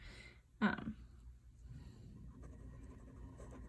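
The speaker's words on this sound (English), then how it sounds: "So let me write that down." Writing by hand while working a physics exercise: soft pen strokes scratch faintly on paper, with one brief louder knock early on and quiet, irregular scribbling after it.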